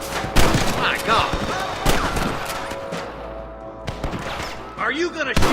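Gunfire from a shootout with rustlers in the Western video game Red Dead Redemption, with sharp shots and bursts cracking over continuous game action and shouting voices.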